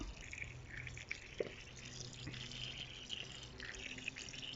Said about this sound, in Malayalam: കണ്ടേ, അതിനുള്ളിൽ നിന്നാണ് ഈ വെള്ളം വരുന്നത്.